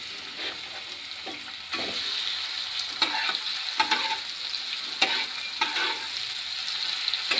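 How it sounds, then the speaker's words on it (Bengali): Prawns coated in mustard oil sizzle steadily in a kadai, with a constant crackling hiss and occasional sharp pops and stirring scrapes, close and fairly loud, no voices. "মাছগুলো আমি এইভাবে লাল লাল করে ভেজে নেব"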